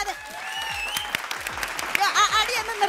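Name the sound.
audience applause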